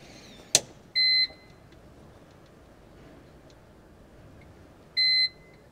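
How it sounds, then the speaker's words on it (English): An aircraft emergency locator transmitter being armed gives a sharp click, then two short, clear electronic beeps several seconds apart, close and distinct against a quiet background. "It'll go through a series of beeps as it acquires satellite signal."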